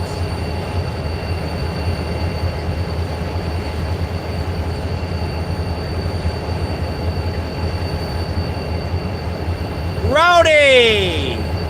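Freight train 164 outbound rolling past behind a pair of SD40-2 locomotives at Coffey's Cliff, a steady loud rumble of cars with a burst of high wheel squeal near the end.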